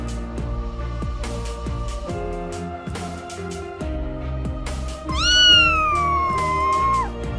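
A rescued cat gives a single long, loud, drawn-out meow near the end, rising and then sliding down, over a steady bed of background music.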